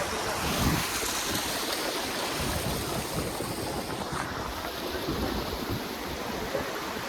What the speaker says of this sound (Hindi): रास्ते में झरना